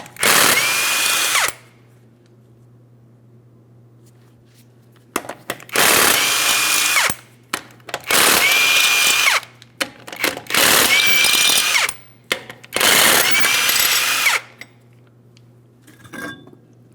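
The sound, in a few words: power tool removing 21mm lug nuts from Ford Transit wheel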